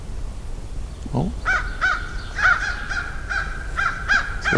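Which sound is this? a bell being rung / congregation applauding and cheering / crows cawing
crows cawing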